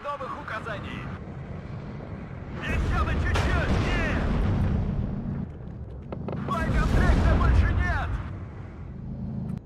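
Aerial bombing explosions in the video game WARNO, heavy booming blasts rolling in two long bursts with rumbling low end, loud and close, while someone talks over them.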